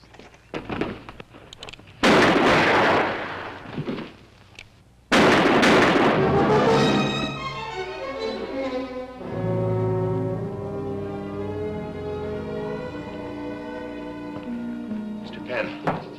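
Pistol gunfire in a 1958 television adventure series: two sharp, loud shots ring out a few seconds apart amid dialogue, then a swell of orchestral music takes over.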